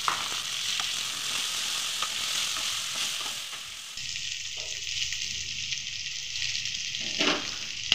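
Chopped tomato and green chilli fry in a pan with a steady close sizzle. The hiss shifts partway through, and a few stirring scrapes stand out, with a louder one near the end. No voice is heard.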